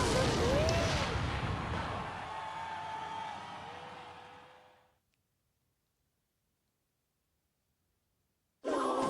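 A rocket spell striking the Archer Queen in the mobile game Clash Royale gives a loud blast whose roar slowly fades over several seconds into silence before another sound cuts in abruptly.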